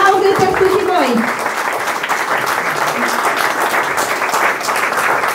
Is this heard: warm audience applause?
yes